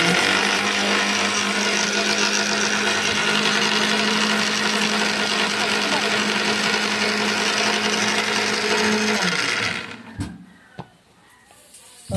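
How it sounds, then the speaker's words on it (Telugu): A kitchen mixer grinder running steadily for about ten seconds while grinding dried tamarind chutney with a splash of water, a loud continuous whirring drone that then cuts off, leaving a few clunks and quiet. "ఇంకొక చుక్క వాటర్ యాడ్ చేసుకొని మెత్తగా పట్టుకున్నాం"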